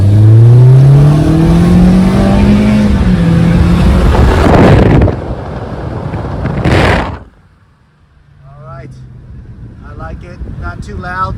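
A Toyota Corolla Hatchback with a quad-tip cat-back exhaust revs loudly, its pitch rising and falling through the exhaust, then cuts off abruptly and quiet talking follows.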